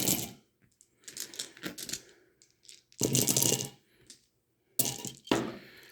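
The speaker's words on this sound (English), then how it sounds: "I'm going to take his dice, throw them in here." Dice clatter and rattle as they are thrown and roll across a hard surface, in several loud bursts with brief quiet gaps.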